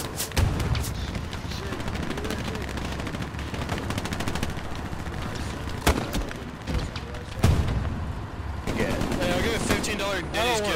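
Artillery and gunfire in the World War II shooter Hell Let Loose: a steady crackle of rapid distant shots and machine-gun bursts, punctuated by a couple of louder booming impacts, with faint voices talking beneath.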